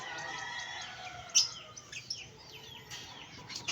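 Birds chirp outdoors, a run of quick high tweets and short calls over a low background murmur, fairly close and without talk.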